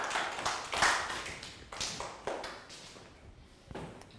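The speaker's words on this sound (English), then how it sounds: "Round of applause for Pangpon." Scattered light handclaps from a small group in a classroom, irregular taps rising and falling over a few seconds, fairly quiet with no voices over them.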